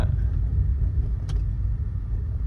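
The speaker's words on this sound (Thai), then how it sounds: "ขับสนุกนะครับ 5เกียร์5เกียร์คันนี้ ขับสนุก" A Mercedes W201 with a five-speed manual drives along, its engine and road noise forming a steady low rumble heard from inside the car, with no voices.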